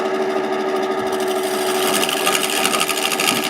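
A wood lathe spins a carving mallet blank as a carbide tool cuts it, a steady close hum with rough scraping chatter growing stronger midway.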